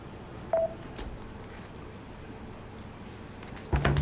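Telephone keypad tones are pressed while a phone is shut off during a Zoning Board of Appeals meeting: a single short beep early on, then a louder burst of tones near the end over quiet room noise.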